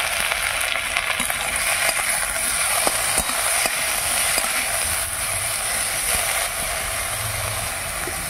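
Raw tomato, green chili, onion and coriander leaves sizzle in hot mustard oil, a steady crackling fry with occasional clicks of a utensil stirring the pan.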